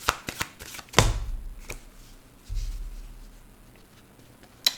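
Playing cards drop onto a table in a quick patter, followed by a soft thump and brief shuffling as the deck is cut, with a few light taps at the end; no one speaks.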